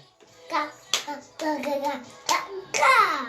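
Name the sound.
clapping for everybody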